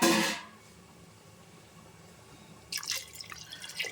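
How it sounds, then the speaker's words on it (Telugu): Water poured into a pot of mutton paya curry, a short gush at the start, a quiet pause, then a second burst of splashing and dripping pouring. "ఇప్పుడు ఎంత ఎసరు కావాలో అంత వేసుకుందాం."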